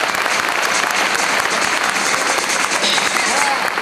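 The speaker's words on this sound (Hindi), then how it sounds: "एक बार इनके सम्मान में जोरदार तालियां बजाएं।" A meeting audience breaks into loud, dense applause, the sustained clapping filling the room evenly throughout.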